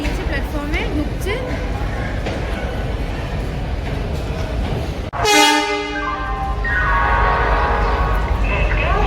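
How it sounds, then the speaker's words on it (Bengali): A long-distance passenger train pulls into a busy station platform, its horn sounding loudly in a long harmonic blast midway, over steady rumbling wheels and crowd chatter, with people talking nearby. "এই যে আমাদের ট্রেন দিয়ে দিয়েছে, প্ল্যাটফর্মে ঢুকছে"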